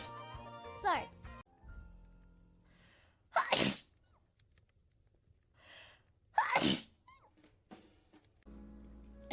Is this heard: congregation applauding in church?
no